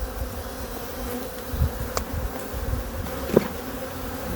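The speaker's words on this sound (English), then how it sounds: "I see a lot of very upset bees." Dense, close buzzing of many agitated honey bees inside a hive, continuous, with a few sharper flicks and bumps; no voices.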